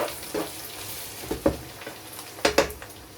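Garlic frying in a pan for spaghetti bolognese, a soft steady sizzle with several sharper crackling bursts and stirring scrapes, close and fairly quiet.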